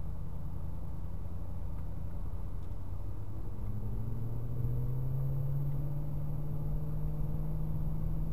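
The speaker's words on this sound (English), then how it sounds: "Motorcycle's overtaking on the rear." A motorcycle overtakes from behind on the Spulga Pass, its engine a steady close rumble that rises in pitch and swells as it draws alongside and passes.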